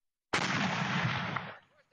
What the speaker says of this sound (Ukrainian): Ось так стріляє «Нона» – самохідний комплекс ще радянського зразка, розрахований на мінометні боєприпаси.